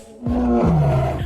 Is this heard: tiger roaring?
yes